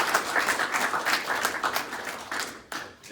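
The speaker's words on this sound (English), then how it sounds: "round of applause for Dennis" Audience clapping for a speaker at a conference on crypto regulation, a moderate burst of applause from a small crowd that thins out and trails off toward the end.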